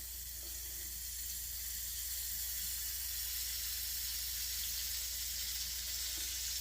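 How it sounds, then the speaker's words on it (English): Crumpet batter poured into a cooking ring greased with a butter and olive oil mix, giving a soft, steady hissing sizzle that holds evenly for several seconds, faint and close, with no talking. "You should hear that sizzle when you pour it in there."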